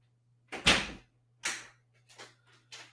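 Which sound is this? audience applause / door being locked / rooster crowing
door being locked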